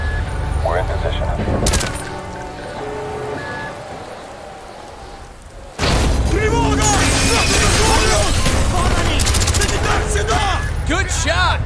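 Dense, loud bursts of gunfire in the shooter Call of Duty: Black Ops, a sharp shot early, then a quieter stretch before sustained rapid automatic fire crackles continuously, with voices talking throughout.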